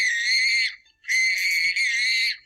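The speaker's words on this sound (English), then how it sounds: "Screams." A child lets out two long, loud, high-pitched screams, the second following a brief pause and running longer, close to the microphone.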